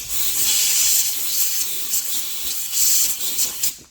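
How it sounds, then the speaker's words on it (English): An air blower hisses steadily and loudly as it blasts packed mud out of the electric shift clip on a Honda Foreman TRX450 ES ATV, with the rush of air pulsing slightly over a few seconds. "Let's get an air blower and blow that sucker out of there."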